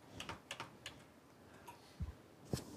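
Faint clicks of a computer mouse come in a quick irregular cluster, then a few more spaced clicks, quiet and close against a soft background hiss.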